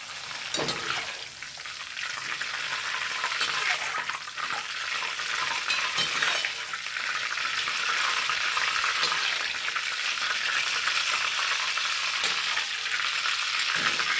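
Jackfruit chips frying in coconut oil hiss with a steady, dense sizzle while a scoop stirs and lifts them, occasional light scrapes cutting through the constant bubbling, close up and without speech.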